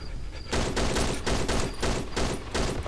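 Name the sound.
gunshots in Cry of Fear video game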